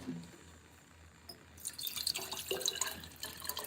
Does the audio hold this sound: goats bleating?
no